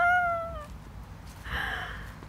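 On a residential street outdoors, a cat gives one clear, falling meow at the start. A fainter, shorter cry follows a moment later over quiet street ambience.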